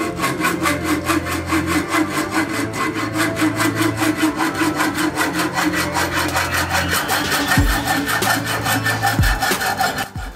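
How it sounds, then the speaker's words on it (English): A hand saw cuts off the old wooden handle of a Hultafors Classic Mini Hatchet. Steady back-and-forth rasping strokes repeat quickly and closely, with no talking. "At first I saw off the old handle"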